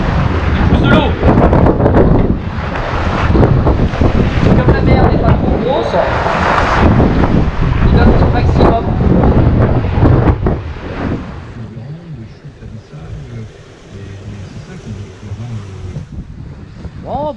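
A Dufour 375 GL sailboat under sail alone in a brisk wind, heavy rushing wind and water noise buffeting loudly for about ten seconds, then easing to a quieter wash with a voice speaking.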